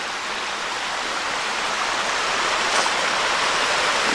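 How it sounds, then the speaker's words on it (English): A rushing torrent of water pours down beside a hiking trail in the wilderness, a steady, loud, close broadband roar that holds unbroken throughout with no voices. "Got quite a rushing torrent of water here too."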